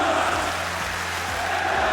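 Esports tournament crowd at a Rainbow Six Siege upper final, a steady loud roar of many voices filling the arena without letup.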